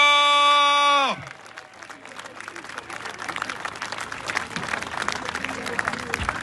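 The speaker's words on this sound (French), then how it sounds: "Un grand bravo à Pierre-Yves Rougeron qu'on peut applaudir très" Audience applause at a Les Patriotes political rally in France honoring speaker Pierre-Yves Rougeron, a sustained dense wash of many hands clapping, rising after a brief music fade at the start and continuing steadily throughout.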